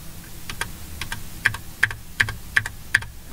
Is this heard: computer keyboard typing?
yes